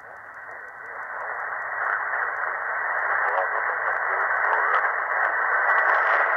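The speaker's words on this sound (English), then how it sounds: "I think we're just getting washed out with the muddy speaker." A Raddy RF760 portable radio plays an AM broadcast through its small built-in speaker, giving a muffled, band-limited hiss and program sound that holds steady and grows slightly louder across the stretch.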